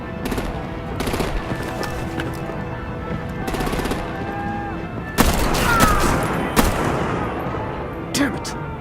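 Bursts of automatic gunfire crackle through a firefight in the video game Batman: The Enemy Within, repeated volleys with sharp louder shots late on, set against a rumbling backdrop.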